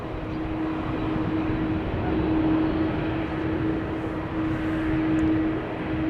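Turkish Airlines Airbus A330-300 jet engines at Amsterdam Schiphol Airport, a loud constant roar with a steady droning whine running through it, swelling slightly in places, with no voices.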